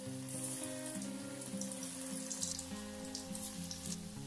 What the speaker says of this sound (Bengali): তেল গরম করে নিয়ে কোপ্তাগুলো আস্তে আস্তে তেলের মধ্যে দিয়ে দিচ্ছি।